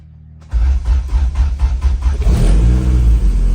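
A Honda EK with a B-series engine swap cranks with a brief rhythmic starter chatter, then catches and revs loudly up close, settling into a rough, rising engine roar.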